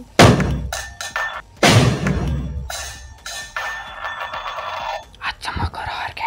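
Firecrackers set off as a prank in Nepal: two sharp loud bangs close by, a few seconds apart, followed by thuds and rattling, with people talking quietly around them.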